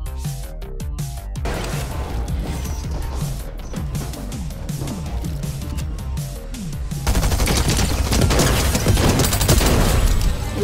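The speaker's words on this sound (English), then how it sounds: "Shots up ahead. Let's go push." Rapid automatic gunfire and bursts of shots in a battle royale video game, a dense loud fusillade of cracks that continues throughout and intensifies into heavier sustained firing near the end, with no talking.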